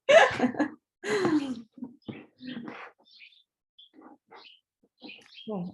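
Birds chirp outdoors in a few short bursts of calls separated by gaps, followed by sparser, fainter chirps.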